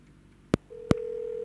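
A telephone call being placed: two sharp dialing tone beeps, then a steady ringing tone that starts and holds, clear and alone on a quiet line.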